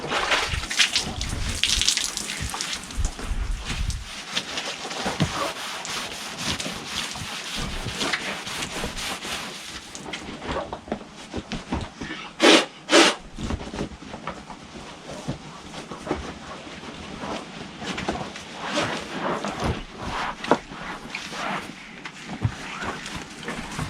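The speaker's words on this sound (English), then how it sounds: "So I'm going to give it a wash with the bucket and sponge" Water sloshing and splashing as an inflatable paddle board is washed with a bucket and sponge outdoors, irregular wet scrubbing and pouring, near and moderately loud throughout.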